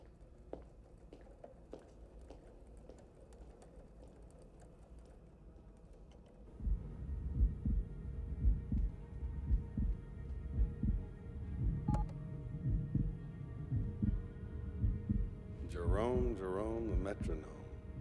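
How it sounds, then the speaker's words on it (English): Slow, steady human heartbeat thumping as a low rhythmic pulse, quiet at first and then stronger, continuing under faint background sounds with a brief tonal sweep near the end. "I could play the piano by that heartbeat of his."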